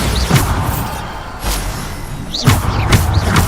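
Bombarda spell blasts in Hogwarts Legacy land as several loud thuds and crashes, each a sharp whooshing impact followed by rumble, spaced about a second apart amid continuous combat noise.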